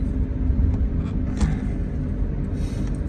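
Inside a moving car with a phone holder that vibrates, a steady low engine and road rumble fills the cabin, with faint rattling ticks over the drone.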